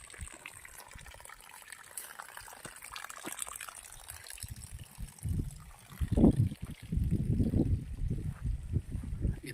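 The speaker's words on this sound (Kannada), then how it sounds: "ಈ ರೀತಿಯಾಗಿ ಪ್ರತಿಯೊಂದು ಗಿಡಕ್ಕೆ ಈ ಥರ ನೀರು ಹೋಗುತ್ತೆ ಇಂಡಿವಿಜುವಲ್ ಆಗಿ." Irrigation water flows to each coconut tree on a farm in Mysuru: a faint low trickle at first, then louder gushing, splashing bursts of running water close by in the second half.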